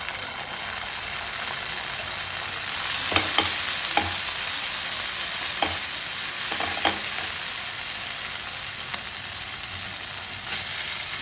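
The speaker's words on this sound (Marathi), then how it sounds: "इथे मी घेतलेला आहे पॅनमध्ये तेल, त्यामध्ये थोडासा बारीक कांदा टाकलेला आहे चिरलेला" Chopped onion and Schezwan chutney fry in oil in a pan, giving a loud, steady, close sizzle. A few scraping stirs and clicks cut through, and no one speaks.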